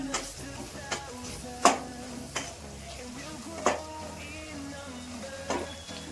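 Bay leaves and onions sautéing in a home kitchen pan: a soft steady sizzle with occasional sharp clinks of a spoon against the pan, quiet and close.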